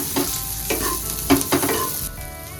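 Sliced onion sautés on medium heat in a pan, a continuous close sizzle with repeated spatula strokes tossing it, fairly loud and free of talk.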